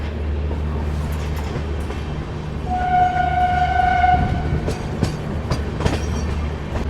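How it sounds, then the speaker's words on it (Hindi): The Barmer Delhi Express rolls past on the tracks near Patel Nagar railway station, its steady rumble and wheel clatter joined by a sustained horn blast midway, followed by sharp clicks of passing cars. "देखो बाड़मेर दिल्ली एक्सप्रेस"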